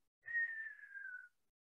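A person whistles a single short falling tone, lasting about a second, imitating the whistler radio signal that lightning produces when its source is nearby. The whistle is clear and alone, with no other sound around it.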